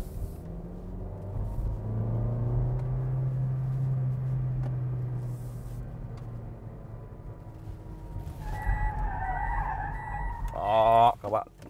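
A 2018 Toyota Vios with a manual gearbox swings through a U-turn, its engine a low, steady hum for most of the run before the revs rise and tyres squeal sharply in the final few seconds.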